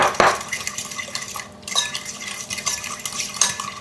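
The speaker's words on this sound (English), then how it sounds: "In this large bowl, we're gonna beat together this egg, along with a 1/4 cup of vegetable oil, 3/4 a cup of brown sugar, and a teaspoon of vanilla." An egg, vegetable oil, brown sugar and vanilla are beaten together in a large bowl, giving close, irregular clinks and wet scraping as a utensil knocks and sloshes against the bowl.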